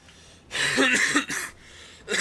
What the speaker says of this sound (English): Still got a bit of a cough, unfortunately.